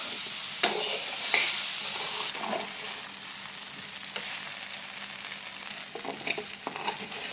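Soybean curry sizzles in a pan while being stirred, a steady close frying hiss broken by occasional clicks and scrapes of the utensil.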